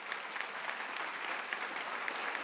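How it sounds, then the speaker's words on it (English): Applause from a standing audience at a sports hall of fame luncheon, an even, continuous patter of many hands, fairly soft and distant throughout. "give yourself a round of applause"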